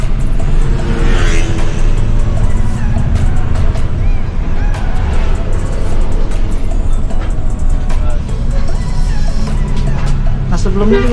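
Onboard an NPM bus with a Laksana body and Hino engine: a steady, loud low engine drone runs throughout with cabin rattle, and a voice talks over it.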